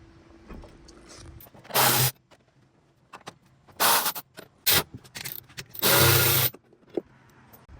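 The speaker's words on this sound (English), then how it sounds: "with your E18 and your E16, you're going to take all these exterior Torx bolts out" Sockets on a ratchet loosening exterior Torx bolts on a BMW 335d, four loud bursts of ratcheting and scraping separated by quiet pauses, close up.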